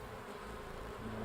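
A swarm of bees gives a low, continuous buzzing hum, faint and steady throughout a brief moment.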